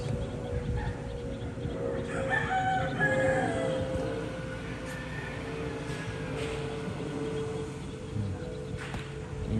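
Several gamecock roosters crow in the middle distance, one after another, over steady outdoor background noise with occasional clucking.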